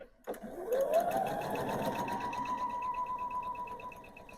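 Sewing machine stitching scrappy quilt strips together, a steady rapid mechanical whir that spins up quickly and runs evenly for about four seconds at moderate, close level.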